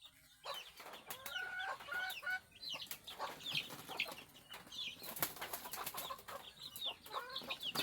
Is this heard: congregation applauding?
no